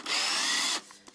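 An electric drill powered from a microwave-oven transformer supply whines steadily for about three-quarters of a second, then stops abruptly, leaving faint room noise.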